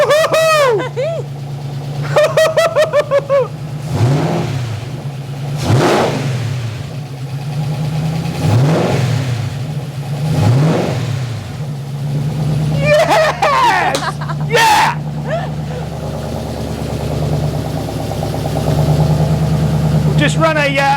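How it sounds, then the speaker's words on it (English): A V8 engine swapped into a Porsche 986 Boxster idles with a steady, throaty rumble, revving slightly at moments, while people talk over it; the engine runs without coolant. "There's no coolant or anything in the engine, but it runs."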